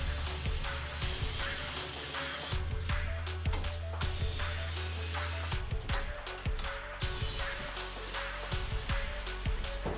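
A metal steering bracket on a Power Wheels go-kart is cut off with a power tool, a loud continuous harsh grinding hiss with low droning and brief ratcheting breaks, close and steady throughout.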